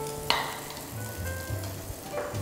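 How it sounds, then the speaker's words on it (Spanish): Onion goes into a little oil in a frying pan over lowered heat, producing a soft, close sizzle with a brief clatter near the start and faint crackles through a quiet background. "En esta misma sartén agregamos un poco más de aceite, bajamos el fuego. Agregamos un poco de cebolla."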